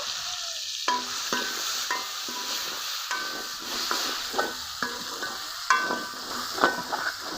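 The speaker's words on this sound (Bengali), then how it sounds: "তেল গরম হয়ে গেছে, দিয়ে দিব পেঁয়াজ কুচি, দিব টমেটো কুচি" Chopped onion and tomato hit hot oil and fry with a continuous sizzle, punctuated by regular spatula scrapes and knocks against the pan every second or so; no talking.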